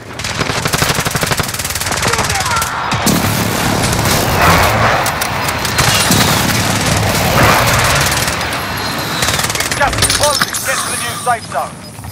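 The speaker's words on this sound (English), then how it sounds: "Enemy precision airstrike!" Precision airstrike in a video game: loud, continuous rattling gunfire and blasts fill the scene, dense and close throughout, with a few clicking mechanical sounds near the end.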